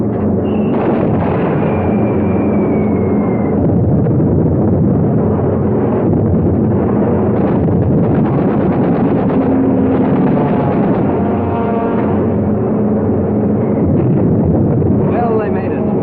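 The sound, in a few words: 600-pound TNT bombs exploding, WWII film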